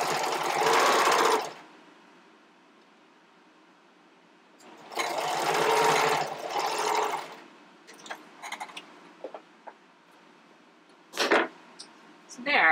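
Sewing machine stitching stretchy binding onto the upper edge of a strappy bikini top near the underwire casing, in two close whirring bursts separated by quiet, followed by small clicks and handling noises.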